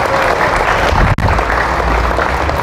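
A church congregation in Marikina claps together in sustained, fairly loud applause. A brief dropout interrupts it partway, and then the clapping carries on strongly.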